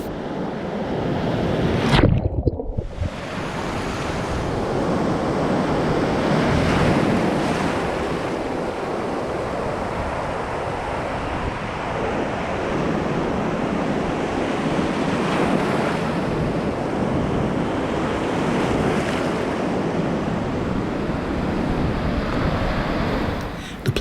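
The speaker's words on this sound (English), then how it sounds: "fresh to strong southwesterly winds sweep across the Andaman Sea towards Phuket" Fresh to strong southwesterly wind roars with continuous crashing surf on the Andaman Sea shore near Phuket, a dense, unbroken wash of waves and wind buffeting the microphone, with no one speaking.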